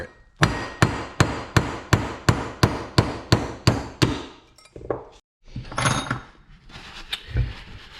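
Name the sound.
hammering out cylinder head valve guides with a tool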